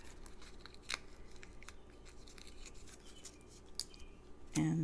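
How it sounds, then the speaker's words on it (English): Scissors snip a few quick cuts into a paper card flower, faint close-up crisp clicks and rustling spread over a few seconds, with a louder handling sound at the end and no talk. "I just cut a few places into the card, into the flower"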